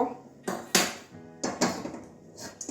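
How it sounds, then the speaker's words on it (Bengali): A metal wok clanks onto a gas stove in a home kitchen, giving several sharp, close knocks and scrapes spaced across a few seconds, with quiet pauses between them. "কড়াইটা বসিয়ে দিলাম"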